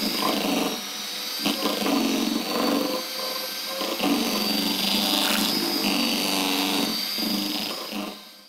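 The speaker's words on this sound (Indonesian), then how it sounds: "Kemudian kita mixer lagi dengan kecepatan rendah dulu, baru nanti kita tingkatkan ke kecepatan sedang." An electric hand mixer running at low speed through whipped cream and cheese spread, a steady, fairly loud whirring drone with slight wavering in pitch, heard alone for about eight seconds.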